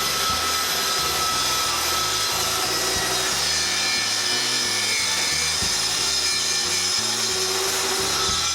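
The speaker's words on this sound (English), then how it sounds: "On both sides, I route a rabbet for the back and cut it." A router cuts a rabbet along the side of a wooden bookcase, giving a steady, loud whine with a rough, chattering texture as the bit chews through the wood, continuous throughout and with no talk.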